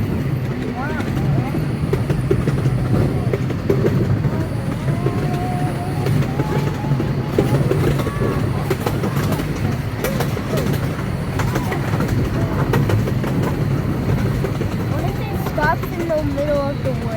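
An amusement park train rides along a track through the woods, a steady rumbling clatter throughout, with people talking over it.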